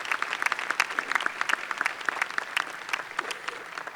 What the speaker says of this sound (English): Please join me in a round of applause for all these dedicated professionals